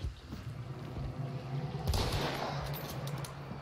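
In the video game Hunt, gunfire crackles in rapid, overlapping bursts, steady and moderately loud, swelling into a heavier volley near the middle, with background game sounds.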